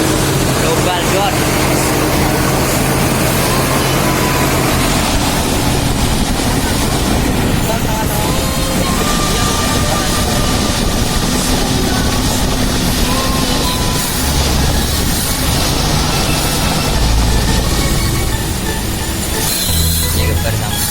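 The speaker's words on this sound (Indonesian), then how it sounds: "kalau udah nyala sambil digeber sambil disemprot guys sama obatnya ini global dot" A motorcycle engine is revved hard during a tune-up while cleaner is sprayed into it. It makes a loud, continuous roar that holds steady throughout, with a person talking over it.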